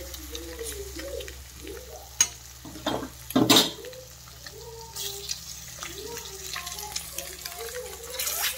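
Garlic egg fry sizzling in a pan as the eggs are flipped, a steady crackle running throughout with a few louder scraping clatters near the middle; no one speaks.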